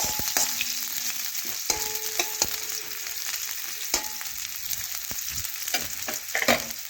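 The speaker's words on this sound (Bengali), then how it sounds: "দেখুন এখন নাড়াচাড়া করে পেঁয়াজটা একটু ভেজে নেব।" Chopped onion sizzles in a pan while being stirred, a continuous close frying hiss broken by repeated scraping and clinking spatula strokes, with no talking.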